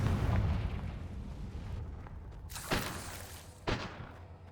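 Confringo fire-spell blasts from the Hogwarts Legacy video game: a dense rumbling roar dies down, then two sharp bursts crack out about a second apart, the second slightly stronger, with no voices.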